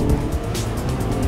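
A Ferrari or McLaren sports car corners hard, its engine roaring close by as the tires squeal in short, strained bursts.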